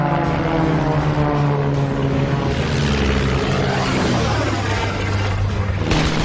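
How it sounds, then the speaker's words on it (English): Engines of a WWI German triplane and a British SE-5 biplane in a close dogfight, a loud continuous propeller drone with a steady pitch that shifts and drops slightly toward the end, heard alone without speech. "closely pursued by a silvery blue German triplane at very close range."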